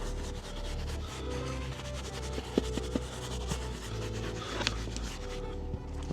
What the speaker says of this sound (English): Now we're gonna use our Detail Factory brush, get in nooks and crannies.